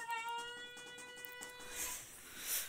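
A cat gives one drawn-out, faint meow indoors in a home, followed by quiet room noise.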